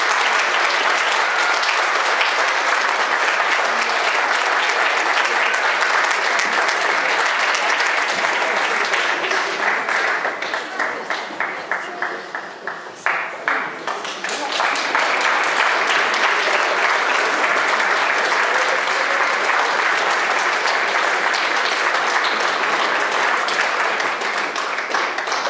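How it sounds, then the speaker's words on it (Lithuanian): Audience applause at an international choir music festival in the Raseiniai district, steady dense clapping filling the hall, dipping briefly midway before swelling again and continuing to the end. "Jūsų aplodismentai."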